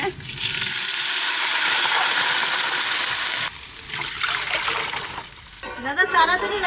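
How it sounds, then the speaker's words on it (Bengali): Water poured into a pan of frying onions for a Kolkata-style mutton dum biryani, a loud steady gushing hiss for about three seconds, then a lower bubbling sizzle with clattering stirring and faint background sounds toward the end. "এবার বাকিটা যেটা আছে এর মধ্যে জল দিয়ে দেবো"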